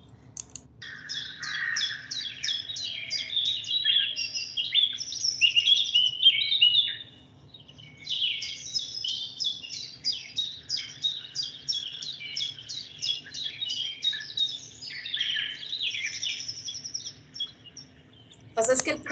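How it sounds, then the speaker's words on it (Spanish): Small birds chirp and twitter in quick, busy bursts with a short pause midway, fairly close and clear over a faint background hum. "¿Se escuchan los pajaritos?"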